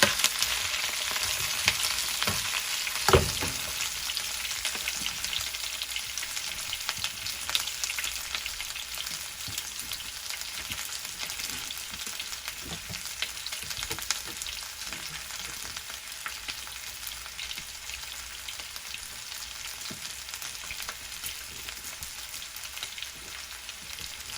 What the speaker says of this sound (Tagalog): haluin po natin at uh, nung uh, sumama ang sibuyas sa karne